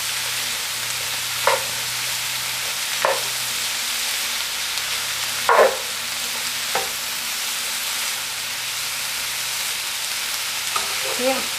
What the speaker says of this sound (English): it's really nice and stir frying really, really good.